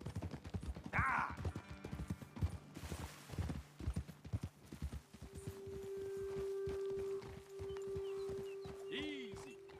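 Horse hooves clip-clop at a steady walking rhythm in Red Dead Redemption 2, close and distinct, with someone speaking over them and a brief whinny near the start.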